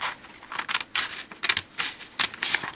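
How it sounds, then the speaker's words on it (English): Rapid crisp snipping and crunching of scissors through paper comes in short bursts, close and fairly loud, with no talking. "We'll use our scissors, and we will cut on this line"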